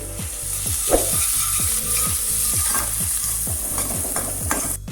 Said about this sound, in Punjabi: ਅਦਰਕ ਤੇ ਲਸਣ ਦਾ ਪੇਸਟ ਪਾ ਦਵਾਂਗੇ ਤੇ ਇਹ ਵੀ ਪਿਆਜ਼ਾਂ ਦੇ ਵਿੱਚ ਮਿਕਸ ਕਰਕੇ ਤੇ ਇਹਨਾਂ ਨੂੰ ਵੀ ਅਸੀਂ ਭੁੰਨ ਲਵਾਂਗੇ